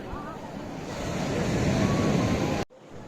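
Surf washing ashore at Radhanagar Beach on Havelock in the Andamans, a loud steady roar of breaking waves with wind rumble on the microphone, cutting off abruptly near the end.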